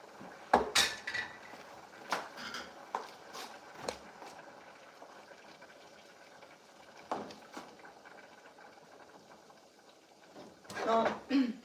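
Dishes clatter while a pot of sticky rice is checked in a home kitchen, with scattered clinks and knocks of metal and crockery, a louder rattle at the end, and quiet background noise between.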